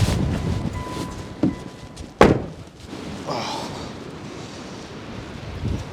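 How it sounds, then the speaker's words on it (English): Wind gusts buffet the microphone in low rumbles, broken by a couple of sharp thumps and a heavy slam. "Oh God, it's windy."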